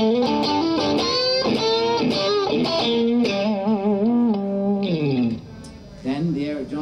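An electric guitar with crunchy overdrive plays a lively run of bent and picked notes, loud and gritty, ending in a few sustained tones.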